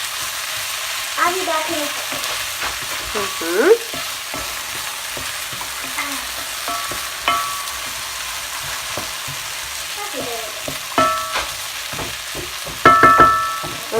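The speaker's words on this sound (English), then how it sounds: "Let me stir one time." A vegan minestrone soup sizzles in a pot while being stirred, with a steady frying hiss broken by occasional scrapes and clinks, and brief speech partway through.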